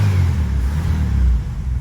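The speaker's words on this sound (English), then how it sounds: "Look at how the engine's running." A 1971 VW Beetle air-cooled engine idles steadily right after a generator replacement and oil change, a loud, close, low rumbling chug with an even rhythm and no voices over it.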